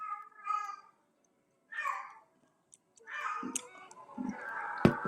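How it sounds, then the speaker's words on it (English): A house cat meows repeatedly in short, chatty, human-like calls, several separate bursts with pauses between, close by and fairly clear, with a few faint clicks near the end. "my cat be talking"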